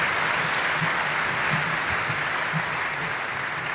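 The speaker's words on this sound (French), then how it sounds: "je voudrais qu'on applaudisse très fortement la première dame de la République." Dense, loud applause from a large audience at a public gathering honoring the First Lady, continuous and even in intensity from start to finish with no speech on top.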